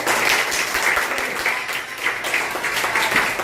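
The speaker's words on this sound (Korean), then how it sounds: "다시 박수 한번 치세요." A lecture audience applauding at a mission training course, steady dense clapping from a crowd indoors that holds evenly throughout.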